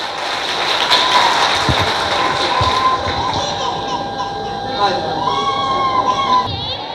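A crowd at a Sankalp Diwas gathering claps and cheers to welcome Maryada Ambedkar, a dense, steady wash of applause with some shouting and voices mixed in.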